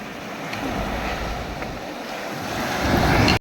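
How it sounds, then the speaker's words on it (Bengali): Rough sea waves roll in on Digha beach, a broad continuous roar of surf blended with wind buffeting the microphone, swelling louder toward the end before cutting off. "ভেবেছি একটু পা ভেজাবো কিন্তু এত উত্তাল ঢেউ"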